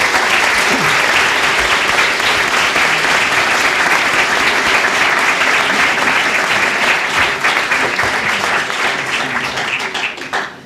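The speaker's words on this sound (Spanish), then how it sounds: "Un aplauso para Marcelo Aranda," A book launch audience applauds Marcelo Aranda with loud, dense, sustained clapping for about ten seconds before it tapers off near the end.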